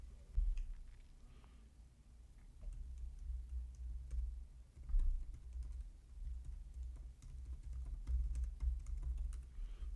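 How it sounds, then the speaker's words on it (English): Quiet typing on a computer keyboard, a light irregular patter of key clicks over a steady low hum, with no one speaking. "Me trying to type in"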